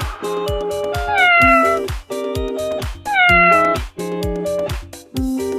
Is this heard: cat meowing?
yes